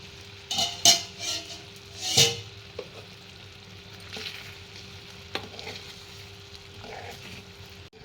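Paneer masala gravy simmering on a low flame in a pan, a soft steady sizzle broken by a few sharp spoon scrapes and clinks against the metal.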